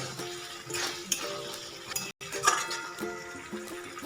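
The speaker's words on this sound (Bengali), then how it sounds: "এবার মশলাটার সাথে ভালো করে আমি কষিয়ে নেব" Snails and potatoes fry in a pan with ground spice paste, giving a steady close sizzle with stirring and scraping against the pan, plus occasional light clinks of a utensil.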